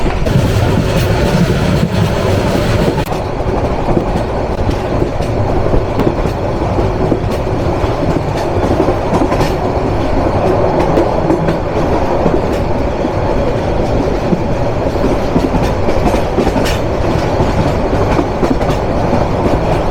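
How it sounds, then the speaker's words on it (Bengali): The Mohanganj Express, running between Mohanganj and Dhaka, rolls along at over 60 km/h, giving a loud, steady rumble with continuous wheel clatter from start to finish and no voices. "আমাদের ট্রেনের বর্তমান স্পিড কিন্তু 60 আপ"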